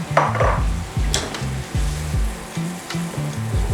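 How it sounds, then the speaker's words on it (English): Carrots go into a hot stir fry in a pan, a loud steady sizzle broken by repeated rhythmic scraping and stirring strokes against the pan. "So now I'm going to add some carrots."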